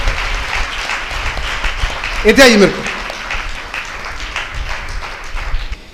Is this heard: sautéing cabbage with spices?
no